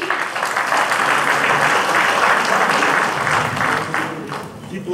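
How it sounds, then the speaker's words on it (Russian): Applause from an audience in a hall at a journalism awards ceremony, dense sustained clapping that swells and then begins to fade toward the end. "Аплодисменты в зале."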